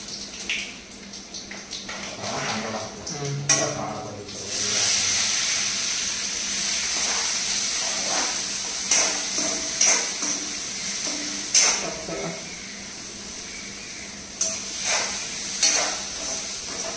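Onion, garlic and cumin fry in a hot pan with a steady, hissing sizzle, while a spoon clinks and scrapes now and then; close and continuous after a louder start.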